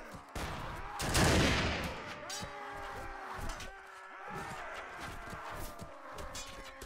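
Gunners firing in battle in Mount & Blade Warband, a dense volley of shots with horse hooves and clatter, followed by scattered ongoing gunfire at moderate distance.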